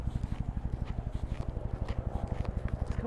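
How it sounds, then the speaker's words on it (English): UH-1 Huey helicopter flying nearby over a Maryland red barn, its rotor blades thumping in a fast, steady chop with a low drone underneath, continuous and fairly close. "This sounds like a UH-1 Huey helicopter."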